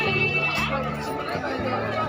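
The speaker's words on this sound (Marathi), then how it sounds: "तिकीटसाठी बहुत जास्त गर्दी आहे।" Crowd chatter in the ticket queue at Qutub Minar in Delhi: a steady babble of many voices close by, with no single voice standing out, continuous throughout.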